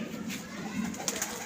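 Pigeons at a Pakistani pigeon-keeping club, including a loft bird, give soft low cooing under steady background noise, with a brief brighter rustle near the end.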